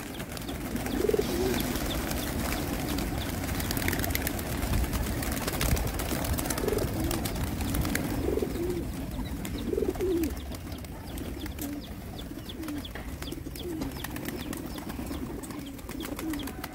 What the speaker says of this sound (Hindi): तो इन्हीं कबूतरों के बच्चे हैं जो आपको मैं देने जा रहा हूँ